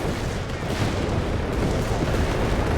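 Battle gunfire in the World War II strategy game Company of Heroes 3, a dense continuous roar of distant shots and rumbling explosions with no clear separate bursts.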